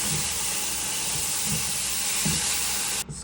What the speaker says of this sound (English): To this, I'm going to add some bone broth and lemon juice. And this is what's going to deglaze the pan.